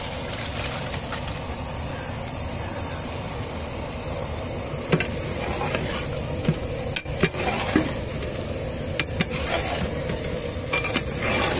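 Ground mint paste for mint rice sizzles steadily in a hot pan. A spoon stirs it, adding occasional scrapes and clacks against the metal over the continuous frying hiss.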